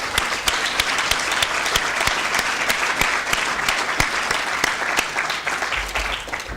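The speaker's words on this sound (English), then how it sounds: "So can we give Catherine and Deborah a round of applause" Sustained, dense applause from an audience at a student union awards ceremony, steady and loud throughout with no talking.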